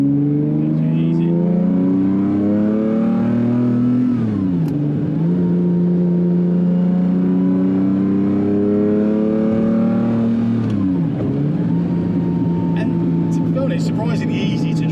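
A Lamborghini Diablo SV engine revs loud and close, climbing through the gears in two long rising sweeps with brief drops at each shift, a deep throaty roar with harmonics throughout.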